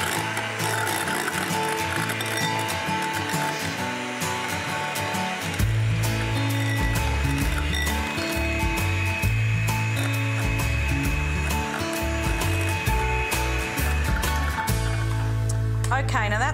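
A machine blends sugar and egg yolks for a white chocolate and raspberry crème brûlée, making a loud, whirring, ratcheting mechanical sound, with a person talking over it.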